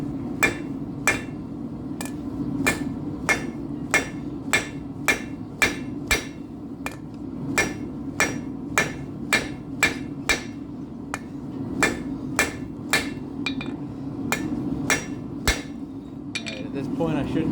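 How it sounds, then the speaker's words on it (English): Hammer blows ring out in a steady rhythm, forging the point of a steel throwing spike by hand; about thirty sharp, close strikes fall at an even pace over a low, constant background rumble. "Now we're gonna start forging a point."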